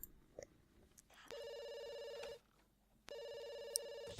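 A telephone rings in the video game The Sims 2, two bursts of a steady electronic trill separated by a short pause, moderately loud over quiet background sound.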